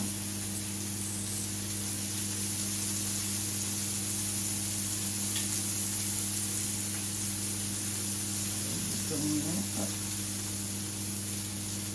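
Food sizzles steadily in oil and spices on a hot plancha, a constant close hiss and crackle with a faint background hum and a brief clatter near the end.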